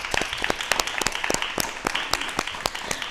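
An audience at a yoga day talk show claps in steady, loud applause after a demonstration of yoga exercises, with dense overlapping hand claps throughout.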